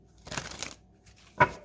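Tarot cards being shuffled by hand: a soft papery riffle lasting about half a second, then a short pause and a sharper single card snap, close and fairly quiet with no talking.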